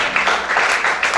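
Audience at a religious teaching applauding, a loud dense burst of many hands clapping close up, continuous through the short moment with a few sharper claps on top.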